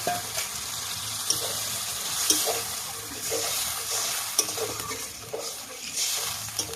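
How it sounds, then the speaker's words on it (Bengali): Meat is stirred with garam masala in a pan, giving a soft, steady frying hiss with repeated scraping strokes and occasional light clanks of a utensil against metal, close by and without speech. "গরম মশলাটা দেওয়ার পর আমি একটু নাড়াচাড়া করবো"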